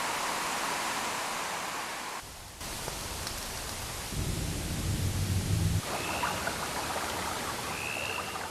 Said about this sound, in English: most of the samples that the Ambient Zero comes preloaded with are nature sounds like this.